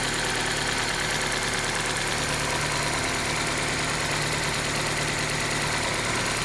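A 1995 Geo Prizm engine idles steadily during a vacuum test, a loud, close, continuous hum with a rough mechanical texture and no speech.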